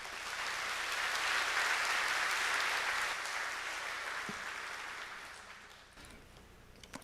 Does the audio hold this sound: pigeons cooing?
no